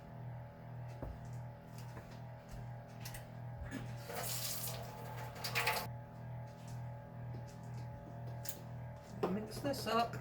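Kitchen tap water runs into a measuring cup in bursts, splashing and rushing close by against a low steady hum, with a person talking quietly nearby.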